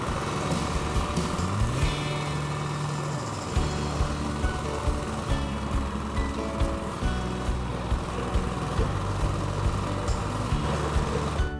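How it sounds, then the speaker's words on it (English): A Cobra Fortis cylinder lawnmower runs with a steady engine drone and mechanical whirr while its scarifying tines lightly rake the grass surface, the motor note shifting slightly in pitch throughout, with no talking. "we'll start the mower and we'll just do a little bit of scarifying to show you what it does"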